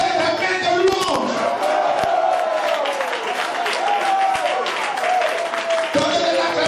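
A church congregation claps in praise during a lively worship service, with cheering voices and shouting mixed into the steady clapping throughout.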